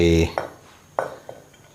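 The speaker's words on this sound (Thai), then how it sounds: "เดี๋ยวเรามา ตำกระเทียมกับพริกขี้หนูให้แหลกก่อนนะครับ" A pestle pounds garlic and bird's eye chilies in a mortar, with a few sharp knocks spaced apart after a brief burst of voice at the start.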